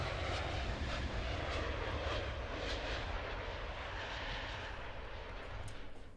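Simulated EasyJet airliner passing overhead on the Brighton Main Line in Train Sim World 3, a steady broad jet roar holding at an even level for several seconds with no talk.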